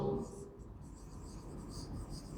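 Pen or chalk writing out a sum, a soft continuous scratchy stroke heard close, faint and steady against a quiet room.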